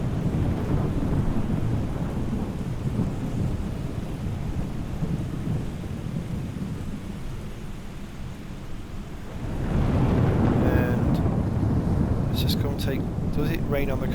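Steady rain and deep rolling thunder in the Microsoft Flight Simulator video game, at EuroAirport Basel Mulhouse Freiburg, a dense continuous wash that swells louder partway through, with faint high tones near the end.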